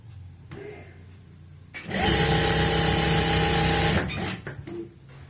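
An electric sewing machine stitching the seam of palazzo pants, a quiet lead-in followed by a loud, fast, even two-second whirring run that then winds down.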